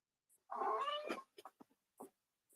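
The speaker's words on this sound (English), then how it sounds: "I don't know if you heard my cat then telling me off" A domestic cat meows indoors, one long drawn-out cry followed by several short chirping calls, close to the microphone and otherwise quiet.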